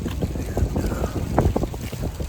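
Cold outdoor wind buffets the microphone on a walk, a rough low rumble with gusty bumps and scattered thuds over a couple of seconds, no speech.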